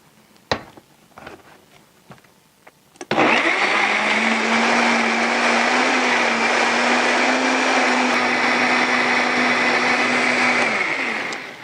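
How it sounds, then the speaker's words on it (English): Fruit and vegetable smoothie blending in a countertop blender: a few light clicks and taps as the lid is secured, then a loud, steady motor whir with churning liquid that runs unbroken for about eight seconds before slowing at the end. "So I'm going to secure the lid and get ready to blend all of it."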